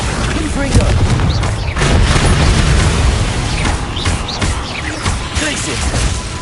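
Fiery Confringo spell explosion in the Hogwarts Legacy video game, heard as dense, loud booming blasts and crashes with layered combat effects running continuously, while a voice calls out over the chaos.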